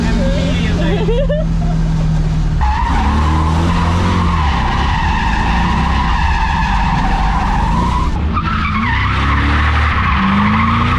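Tires screech and skid as a car spins out while drifting in a racing video game, loud and sustained with engine whine throughout, under a talking voice.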